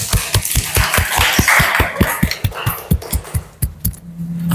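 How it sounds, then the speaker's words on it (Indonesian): Students in a classroom give a student group a round of applause, sharp, fairly close claps in a quick, uneven rhythm that thin out and fade toward the end. "kasih tepuk tangan untuk kelompok 2"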